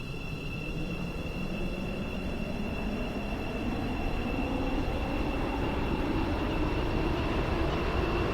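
A Stepford Connect passenger train in a video game runs steadily with a continuous low rumble and a thin sustained high whine, gradually building slightly in loudness, with no voices.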